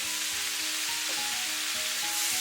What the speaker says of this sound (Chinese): 然后翻炒至葱段断生即可出锅。